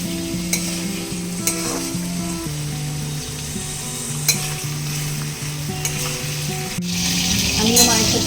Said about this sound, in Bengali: আনাজগুলো ভালো করে ভেজে নিচ্ছি।